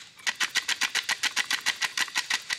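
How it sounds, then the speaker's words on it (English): A Ford 5.4L 3V engine with a loose timing set rattles at a fast, even rhythm of sharp metallic clacks, about five per second, loud and close. "That's the sound of, you know, a loose timing set."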